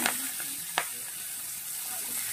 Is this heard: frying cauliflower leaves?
yes